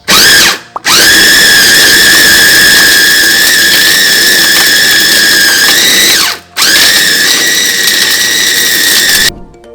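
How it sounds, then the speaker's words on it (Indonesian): A kitchen blender grinds beef meatball dough with tapioca flour, a loud, steady high-pitched motor whine that runs continuously, briefly cutting out twice before resuming, with no talking. "Kita blender ya teman-teman."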